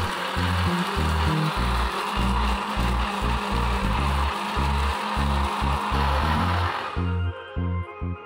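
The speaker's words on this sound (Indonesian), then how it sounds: "Blender semua sampai halus." A kitchen blender grinds shallots, garlic, three candlenuts, a piece of shrimp paste and 200 ml of water into a spice paste, making a loud, steady whirring drone that runs for about seven seconds before cutting off.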